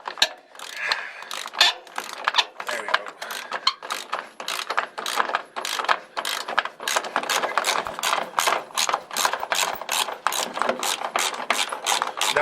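Ratchet on a seized seat belt bolt in a 1986 Ford Mustang Foxbody clicks in rapid, uneven bursts of pawl ticks, close and moderately loud, continuing with short pauses throughout.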